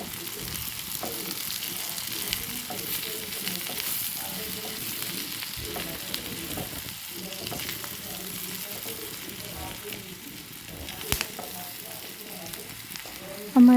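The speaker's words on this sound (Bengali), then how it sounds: "এগুলো দিয়ে আমি ভালোভাবে চিকেনের সাথে মিশিয়ে নেব আর পেঁয়াজটাকে একটু ভেজে নেব।" Chicken frying in a pan with onion and five or six slit green chillies, the onion being lightly browned, for an evening pasta dish; a steady close sizzle runs throughout with occasional stirring scrapes.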